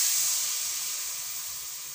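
Coconut milk poured into a pot of cooking squash and crab, a steady, close, bright sizzle with a faint bubbling undertone and a sharp clatter at the very end.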